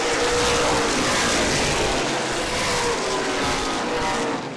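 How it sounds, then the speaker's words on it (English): Late model sportsman stock cars roar side by side down the backstretch at AMS during a 30-lap feature, a loud, dense, continuous engine drone that swells slightly as the pack passes, with no voices. "Drag race down the backstretch."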